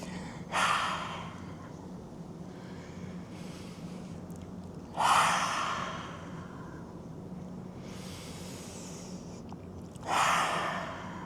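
Forceful breaths during a Kriya Yoga exercise come as three separate, fairly loud bursts about five seconds apart. Each is sharp and breathy, over a steady low hum in the room.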